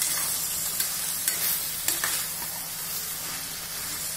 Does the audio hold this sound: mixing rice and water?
no